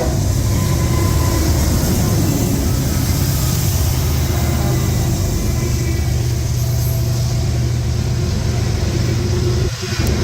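Two CSX freight trains meet, one led by a BNSF fake-bonnet repaint with an NS SD70ACe and a BNSF GEVO trailing, giving a loud, continuous close rumble of engines and rolling wagons throughout.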